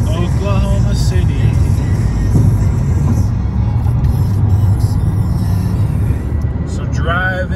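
Steady road rumble and engine drone from a car cruising the highway through open fields between Texas and Oklahoma, continuous and close throughout, with a voice talking over it.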